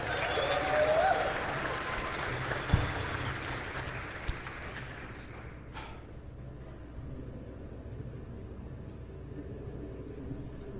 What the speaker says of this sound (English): So one more round of applause for Michael.